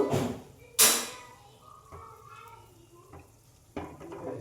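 Kathi goja frying in oil is stirred around the pan, giving a soft sizzle broken by a few sharp scrapes and knocks of the utensil, one loud clack early on, with no voices.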